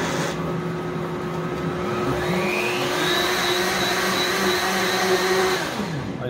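A Blendtec blender whirs loudly through a blackberry smoothie, its motor pitch shifting upward midway as the blend thickens, then winding down near the end, with no talking over it.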